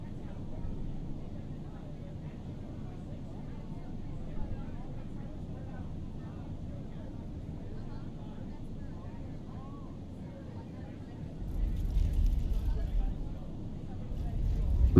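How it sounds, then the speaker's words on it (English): An Airbus A320 lands in a flight simulator, heard from inside the cabin: a steady low engine and airflow roar, with a louder rumble of touchdown near the end. "So this is the landing from our cabin."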